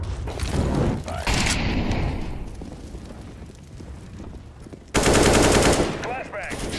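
Rapid automatic gunfire in Counter-Strike, loud and dense. A heavy burst opens the clip, the firing eases to a rumbling lull, and then a sudden loud volley cuts back in and keeps going to the end.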